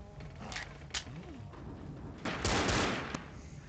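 Gunfire in Left 4 Dead: scattered single shots, then a dense, rapid burst of firing, all at moderate volume. A voice speaks faintly underneath.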